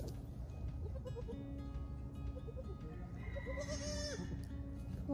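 Newborn baby goats bleat in a few short, wavering calls, a cluster early on and a louder, rising-then-falling bleat near the end, heard fairly close over a low background murmur.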